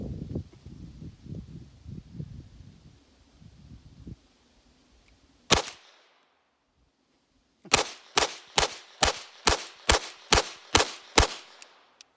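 Ten sharp 10mm pistol gunshots crack in a fast, even string at an outdoor range, with one earlier isolated shot; indistinct talk and rustling come before them.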